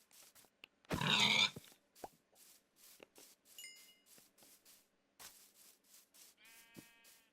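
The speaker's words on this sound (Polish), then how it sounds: "No, świniak." A burst of loud, rough pig grunting in Minecraft, followed by sparse clicks and short snorts in a mostly quiet space.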